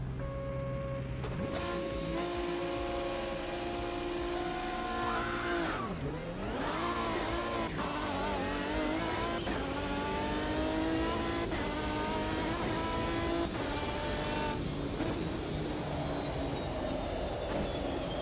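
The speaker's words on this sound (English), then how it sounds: "I definitely think this car sounds nastier in PMR" A race car engine in the PMR racing simulator revs hard and continuously, rising and falling through gear changes with a shifting whine, loud and unbroken throughout.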